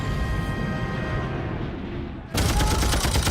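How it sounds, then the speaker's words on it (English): Machine gun fire in a wartime documentary about the Allied landings on the Atlantic Wall comes as a loud, dense, continuous burst of shots, sharpening abruptly into a harsher barrage partway through. "When the Allied forces land, they're met with a hail of machine gun fire."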